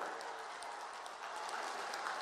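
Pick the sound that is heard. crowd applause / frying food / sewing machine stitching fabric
crowd applause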